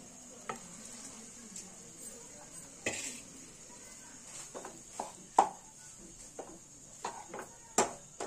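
Spoon scraping and clacking against a pan while boiled pasta is stirred for a vegetarian pasta dish, sparse irregular knocks over a faint steady hiss, close by.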